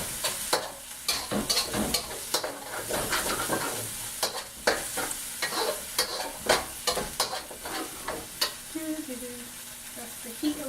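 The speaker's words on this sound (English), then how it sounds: "just give that a quick stir with your onions, garlic, and ginger" A sauce with onions, garlic and ginger sizzles in a pan while a utensil stirs it in irregular scraping strokes, close up and fairly soft, with brief faint voice near the end.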